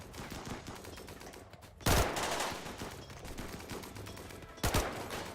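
Gunfire in the video game Rimworld, a muffled rattle of shots under a busy game soundscape, broken by two loud sudden bursts, with no talking over it.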